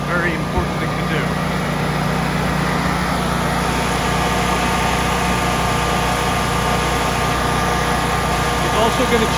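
A Generac generator engine runs steadily during a service, a close, even mechanical drone with a continuous low hum and no change in pace.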